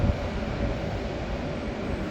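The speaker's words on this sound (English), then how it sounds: "oh, the train. You know that I am addicted to trains." A train passes in Jerusalem, heard from a rooftop as a broad steady low rumble, moderately loud and continuous throughout, with no voices.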